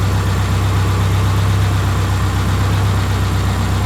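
A 1999 Subaru Forester with over 310,000 miles on the car and nearly 200,000 on its engine idles steadily up close, a constant low drone with an even hum and no voices.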